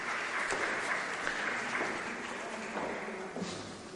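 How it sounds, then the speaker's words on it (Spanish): Audience applause at a theology lecture, a sustained wash of many hands clapping from some distance, fairly even throughout and tapering slightly toward the end. "No fue para nosotros el aplauso."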